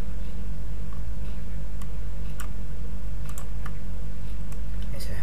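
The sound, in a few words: typing code on a computer keyboard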